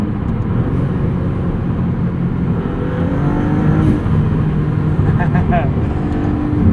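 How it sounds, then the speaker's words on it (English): A 2022 Maserati MC20 driven in manual mode, its engine giving a loud steady drone from inside the cabin with turbo whooshes and flutters rising above it, and a voice speaking over it. "All you hear are turbo noises from behind you."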